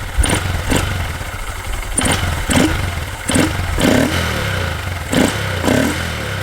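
A 2022 Honda Grom motorcycle fitted with a Chimera intake revs in a series of short, sharp blips, each rising fast and dropping back to a lumpy, clattering idle, loud and close with no talk.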